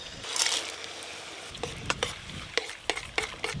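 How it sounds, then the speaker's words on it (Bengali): Nuts, raisins and cashews being stirred into melted sugar caramel in a pan, with a soft sizzle under sharp intermittent scrapes and clinks of a spoon against the pan. "ক্যারামেলের ওপরে বাদামগুলো দিয়ে খুব ভালো করে ফুটিয়ে নেব"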